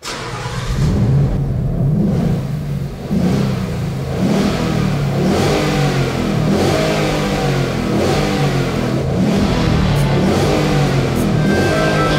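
A car engine revs hard and holds high, wavering revs while the front wheels spin in place, loud and close, running continuously for about twelve seconds with a brief dip near the start and no talking.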